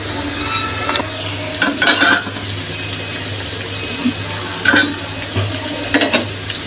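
Radish pakoras fry in hot oil with a steady sizzle and bubbling, broken by a few brief clattering stirs and turns of the fritters.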